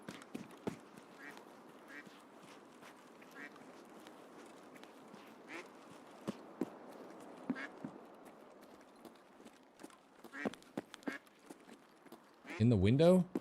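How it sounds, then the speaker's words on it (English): Duck quacks in a video game sound near the end as a brief burst of loud, nasal calls, following a stretch of quiet footsteps and small clicks while a player speaks. "I hear a duck."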